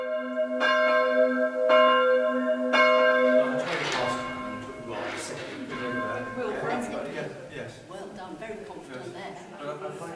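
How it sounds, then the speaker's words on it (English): Church bells are raised one by one, ringing out in turn with single clear strikes at first, then overlapping into a fuller jangling peal that fades slightly. "At 6 p.m, the bells are raised one by one."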